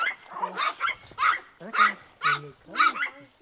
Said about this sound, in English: Now this is a little dog